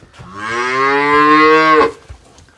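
A cow gives one loud, close, drawn-out moo lasting under two seconds at a farm sale of breeding bull calves, with quiet surroundings before and after.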